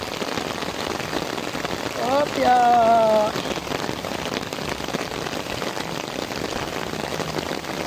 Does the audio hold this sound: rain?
yes